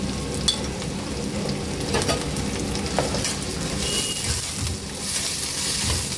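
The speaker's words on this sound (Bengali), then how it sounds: "এটা ভালো করে আমি ভেজে নেব" Garlic and onion sizzle in a hot pan with a pinch of salt, a loud, continuous crackling fry. Occasional scrapes and clacks of stirring break in close up.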